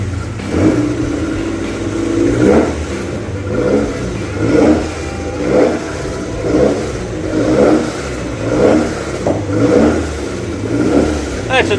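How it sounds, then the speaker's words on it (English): A car engine revs repeatedly through its exhaust in close, loud, evenly spaced bursts, each rising and falling, with a voice occasionally heard underneath. "That's a nice exhaust system, Jim."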